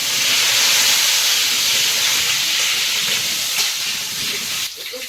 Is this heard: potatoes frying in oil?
yes